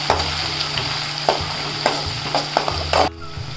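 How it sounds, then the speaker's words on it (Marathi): Onion and curry leaves sauté in hot oil with cumin and mustard seeds for misal, a continuous close sizzle with periodic scraping stirs and spoon knocks, the hiss dropping away near the end. "कांदा टाकते कढीपत्ता टाकते हे सगळं परतून घेते"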